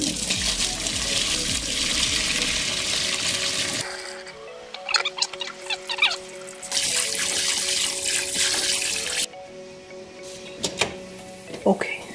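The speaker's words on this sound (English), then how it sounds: "we're gonna rinse these out and wash the bones really, really well" Soup bones for pho rinsed and washed under a running kitchen tap, steady water splashing that cuts off and restarts with clinks and handling in between, close up, with a person talking over it.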